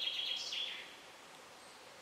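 Birds chirp in a forest beside an abandoned village, with faint, high twittering calls that are clearest in the first part and then fade into quiet outdoor air.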